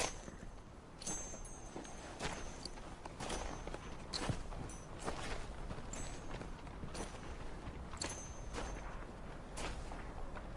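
Horse hooves clip-clop steadily on a trail in a Western setting, a fairly faint, continuous rhythm of steps under ambient noise, with no talk.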